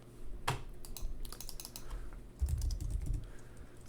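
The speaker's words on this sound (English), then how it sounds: "my typing is just out of control" Rapid, uneven clatter of keys being struck on a computer keyboard, close and fairly quiet, with a sharper tap early on and a denser burst of keystrokes near the end.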